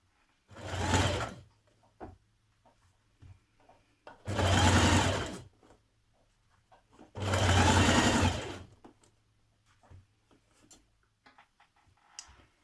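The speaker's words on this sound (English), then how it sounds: "we're going to stitch this in place now" Sewing machine stitching bias tape onto a Simplicity 9122 dress armhole, three separate loud whirring runs of a second or two each with quiet handling clicks between, close and alone.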